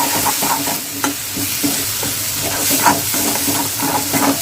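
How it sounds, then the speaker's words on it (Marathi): Ground black chickpea paste frying in a pan while being stirred, a continuous close sizzle with repeated scraping and stirring knocks, no voices. "आपण वाटून केलेलं होतं ना चण्याचं ते घालायचं आहे आणि याला पण आपण असं चांगलं फ्राय करून घेऊया"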